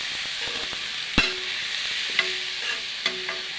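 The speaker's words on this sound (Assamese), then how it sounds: "ধুনীয়াকৈ গোটেই বস্তুখিনি মিক্স কৰি লাৰি দিলোঁ" Spoon stirring spices, chilli and other ingredients in a hot pan, with a soft continuous sizzle and a few sharp scrapes and taps against the metal, close by.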